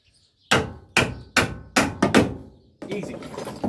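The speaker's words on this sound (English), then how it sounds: "how do you do it? Well, with a big hammer." Five loud, ringing hammer blows from a big hammer strike a Sigma coupe's metal door panel in an uneven rhythm, followed by a clattering rattle.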